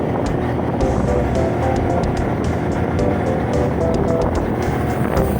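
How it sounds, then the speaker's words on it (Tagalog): A loud, steady engine drone with broadband rumble and hiss, continuous throughout with no speech, like a motorboat running close by. "maingay ang tunog ng makina eh"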